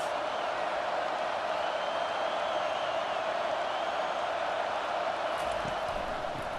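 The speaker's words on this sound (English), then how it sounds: "This crowd trying to make life miserable for this offense." A college football stadium crowd at an Oklahoma versus Arkansas game makes a steady, loud roar of cheering and noise that holds without a break throughout.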